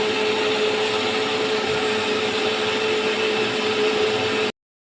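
A mixer grinder whirs steadily at high speed as it purees ginger and garlic into a fine paste, a loud continuous motor drone with a constant pitch that cuts off abruptly at the end.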